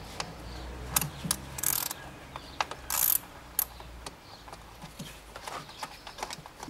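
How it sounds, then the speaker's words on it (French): Ratchet wrench clicking as a 10 mm screw is undone on a Peugeot 208 air filter box, bursts of rapid close clicks separated by pauses and light metallic handling. "je vais enlever la vis de 10"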